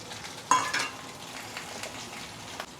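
Soft, steady sizzling of fish frying in a pan, with a sharp clink near the start and faint clatters over the hiss.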